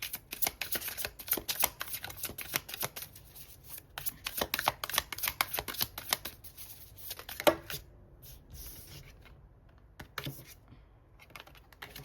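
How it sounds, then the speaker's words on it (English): Tarot cards shuffled by hand in quick, crisp riffling bursts, close to the listener, then sparse soft card handling with a few slaps before settling into near quiet, no talking. "These cards are coming out in chunks."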